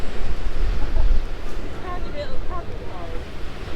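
Strong wind buffets the microphone on the Giant's Causeway coast, a constant low roar and rumble with gusts, waves faintly beneath, and a person's voice heard briefly in the middle.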